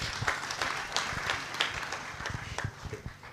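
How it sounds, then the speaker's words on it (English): Audience at a university fireside conversation event clapping, a modest, fairly sparse patter of hand claps heard quietly and unevenly throughout. "And I request we clap for that."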